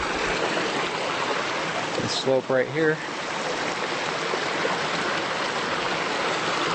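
A creek at the bottom of a steep hill in Crater Lake National Park rushes with a steady, close, full hiss of flowing water, while a person talks briefly near the middle.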